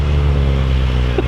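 A Nissan 240SX on worn tires holds a loud, steady engine drone close by, the revving staying even and continuous throughout with no voices.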